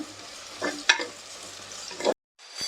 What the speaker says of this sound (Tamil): வெங்காயத்தை நல்லா ஆயில் வதக்கிக்கலாம்